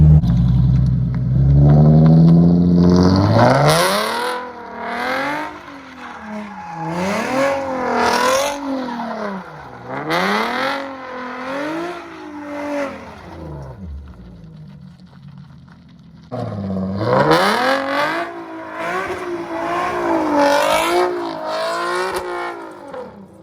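A Nissan 370Z engine revs hard and repeatedly while the car drifts, rising and falling in loud surges with a pause in the middle before the revving resumes.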